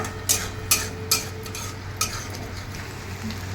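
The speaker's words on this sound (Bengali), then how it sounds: "আমার ভালো করে মশলাটা কষিয়ে নেওয়া হয়ে গেছে অলরেডি তেলও ছেড়ে দিয়েছে" Spice masala being stirred as it fries in oil in a pan over a medium-low gas flame, with a steady close sizzle broken by a few sharp scraping strokes of the spoon.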